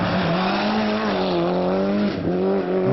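A diecast rallycross car drifts with a continuous tire squeal and a steady, loud engine whine, pitch sliding up and down through the turn, close and without talk.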